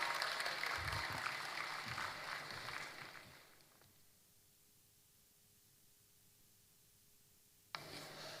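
Audience applause in a hall at a formal Nigerian state event with the Governor of Yobe State, steady clapping for about three seconds that fades out into near silence, then a brief return of sound at the end.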